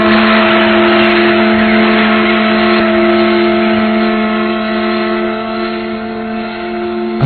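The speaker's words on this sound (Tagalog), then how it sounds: "Mapapatakbo pa natin ang makinang yan. Sa palagay ko, malakas pa ang motor nito." A car engine in an anime scene runs with a steady, loud droning hum for several seconds. No talk is heard over it.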